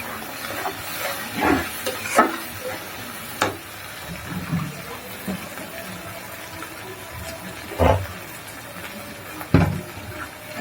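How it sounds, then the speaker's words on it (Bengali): Spices for a curry fry in a pan with a soft continuous sizzle and hiss, punctuated by occasional scrapes and knocks of stirring, close by and moderately quiet. "ভালো করে মশলাটা ওই জন্য ভালো করে কষাই নেবো"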